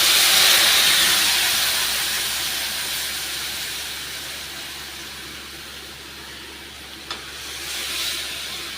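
Tamarind water poured into a hot pan of roasted ingredients for puliyodharai paste hits with a loud hissing sizzle that slowly fades, then surges again near the end. A faint click is heard partway through. No voices.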